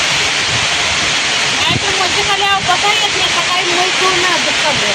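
Rainwater runs down beneath buffaloes in a farm shed in a constant rushing hiss, while people talk over it nearby.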